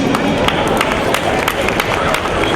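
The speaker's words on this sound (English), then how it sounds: "So a big round of applause for all these depictions here, please." Audience applauding children's Janmashtami dance-drama depictions at a Houston community event, loud dense clapping from a large crowd, continuous and close.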